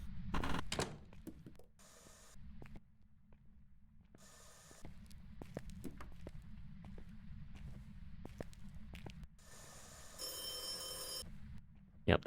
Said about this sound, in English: Yep, that's the phone